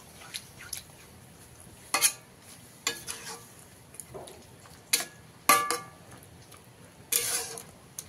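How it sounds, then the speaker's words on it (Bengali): A spatula stirs pumpkin greens and shrimp in a cooking pan after water is added, giving irregular scraping and clinking strokes over a soft sizzle. The strokes come spaced a second or so apart, fairly close by. "জলটা দিয়ে নিয়েছি, এবারে খুব ভালো করে মিশিয়ে দেব।"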